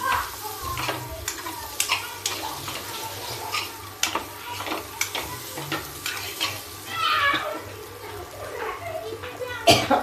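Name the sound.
Kashmiri chili added to hot oil, sizzling and stirring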